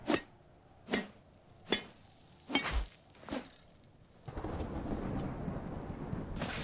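Thunder from a storm in the video game Smalland: several sharp cracks in quick succession, then a steady rush of heavy rain that carries on to the end.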